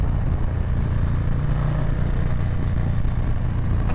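A 2020 Harley-Davidson Low Rider S on a test ride gives a steady, low, rumbling engine drone with wind rush, constant and close throughout.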